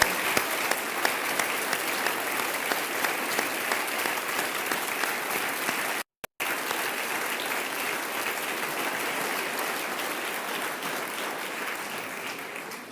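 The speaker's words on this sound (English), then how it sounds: "give him and his 8th grade class a round of applause" Sustained applause from the audience and lawmakers at a state of the state address, a dense, steady roar of many hands clapping for a student seated in the gallery, continuing without a break for several seconds.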